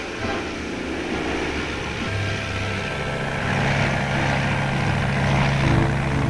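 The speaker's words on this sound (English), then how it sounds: "the Army plane completes its mission and returns to its base to await another assignment" Army L-4 or L-19 liaison propeller plane in flight, a steady droning engine hum with rising tones that grows slightly louder toward the end, heard alone without voices.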